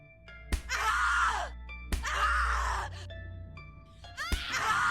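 A character screams and moans in pain in The Cat Lady, drawn-out anguished wails broken by sharp impacts, set against an eerie tonal music bed.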